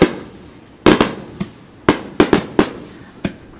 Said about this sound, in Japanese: スターマイン、 スターマインですね